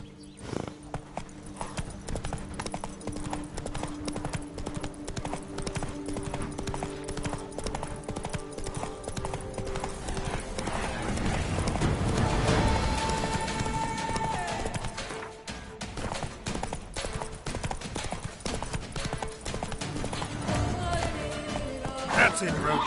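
Roach the horse gallops in The Witcher 3, a steady rapid clip-clop of hooves running throughout, with game ambience and a brief crash in the middle and a voice talking over it.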